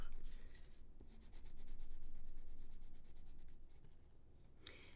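A red Faber-Castell Polychromos coloured pencil scratches across paper in a steady run of close, rapid strokes, first with light pressure and then pressed harder to saturate the colour, with a brief pause partway through and no voices.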